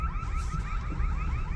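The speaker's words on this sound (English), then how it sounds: "I think I just set off a burglar alarm" Burglar alarm going off, a pulsing electronic warble repeating rapidly and steadily over a low rumbling background, with no talking.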